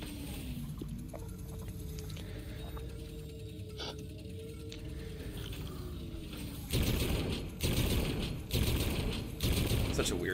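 Gunfire from a weapon in Infinite Warfare Zombies, with rapid, dense bursts of shots kicking in during the latter part over a steady game soundscape and low background noise.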